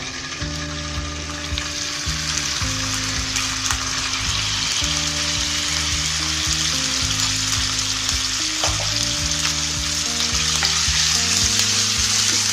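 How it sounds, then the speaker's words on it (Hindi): Boneless chicken frying in oil in a pan, a steady loud sizzle running the whole time with a low humming tone underneath and no voices. "इसमें मैं अब चिकन शामिल करूँगी, बोनलेस चिकन।"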